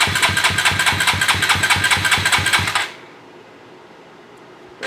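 Dirt bike engine cranking with a fast, loud, rhythmic chugging for nearly three seconds, then cutting off into near silence with a faint hum.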